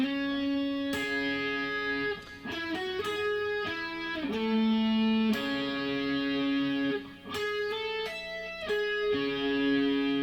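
Electric guitar playing a worship song, sustained chords and ringing single notes with effects, continuous and fairly loud with no voices.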